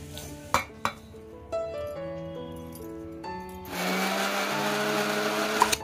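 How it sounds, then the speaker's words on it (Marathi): A kitchen mixer grinder blends masala ingredients for a fish curry, its loud, steady whirring roar starting about two-thirds of the way in after quieter clinks and tonal sounds, then running continuously to the end. "तर आता ह्या सर्व गोष्टी आपण मिक्सर मध्ये वाटून घेतोय."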